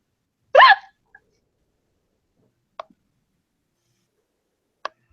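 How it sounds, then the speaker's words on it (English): A person hiccups once, a sharp high-pitched hiccup close by, followed by a few faint clicks in near silence. "That was a hiccup."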